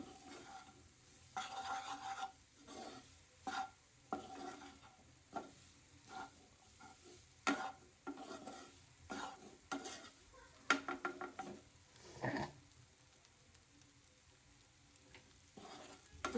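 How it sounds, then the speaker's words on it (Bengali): Cheese meatball bread fries in a little oil while being turned, giving faint sizzling under repeated irregular scrapes and taps of a utensil against the pan, quiet and close; no voices. "একটু তেল দিয়েও নাড়াচাড়া করে ভাজতে হয়"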